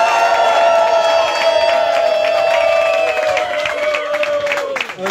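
A live audience at Minigolf Beatrice bursts into loud applause and cheering with whoops, a dense sustained roar of clapping and shouting that tapers off near the end.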